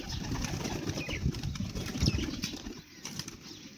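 Pigeons are released at close range. Soft bursts of flapping wings and a few coos come over a low rustle and fade toward the end.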